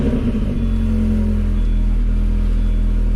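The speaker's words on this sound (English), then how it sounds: "we'll start the car up and see how it does" A 2002-2006 MINI Cooper S engine fitted with a performance cam catches and settles into a steady, loud idle rumble with a low droning hum, close by and without talking.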